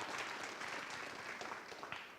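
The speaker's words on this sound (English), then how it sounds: "can give her a round of applause" Applause from an audience at a military community update, a steady wash of many hands clapping, moderately loud and continuous throughout.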